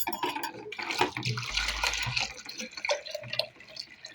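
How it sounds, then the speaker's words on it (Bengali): Water poured from a mug into a cooking pot of semolina on the stove, a close splashing, gurgling stream with drips over a few seconds, heard alone. "জলটাকে ঢালছি।"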